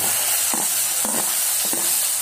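Tomatoes tipped into well-fried onions with whole spices for masala rice, giving a steady close sizzle with three distinct scraping stirs of a spoon in the pan.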